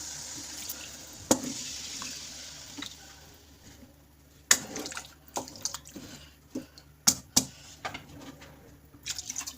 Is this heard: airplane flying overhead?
no